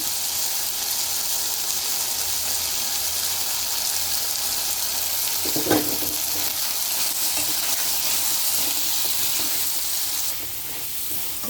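Chicken frying in oil, giving a steady, hissing sizzle throughout with one brief knock partway through, and no talking.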